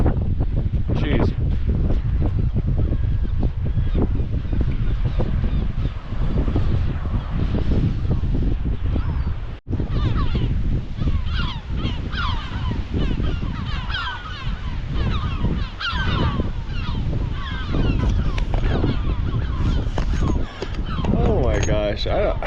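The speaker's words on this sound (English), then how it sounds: "I don't know why seagulls are so talkative" Seagulls call and squawk repeatedly beside a boat trip to an island in Europe, their cries scattered through steady wind noise on the microphone while a person talks close by.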